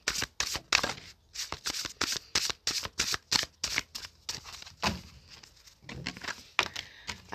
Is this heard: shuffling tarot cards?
yes